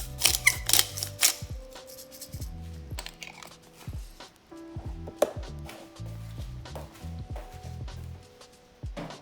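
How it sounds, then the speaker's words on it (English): Pepper grinder cranking black pepper over beef being prepared for a braised bamboo-shoot stew, giving a series of close, dry, crunchy grinding bursts in uneven rhythm with short pauses, heard alone without talk. "a little bit black pepper, grind it"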